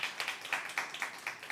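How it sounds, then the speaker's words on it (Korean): Church congregation giving thanks with a short burst of applause, scattered hand claps pattering at a steady quick rhythm, fairly faint and distant in a reverberant hall with no voices over it. "주님께 감사 영광 박수 드리겠습니다"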